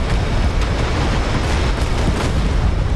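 Missiles strike a US aircraft carrier during a naval battle against an Iranian gun and missile boat swarm in a video game, with loud continuous rumbling blasts and scattered sharp bursts.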